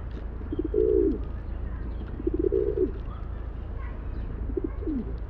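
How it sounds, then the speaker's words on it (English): Display coo of a pigeon: three soft, throaty rolling coos at a moderate distance, evenly spaced over a faint background hiss, with no speech. "So this sound here is the display coo"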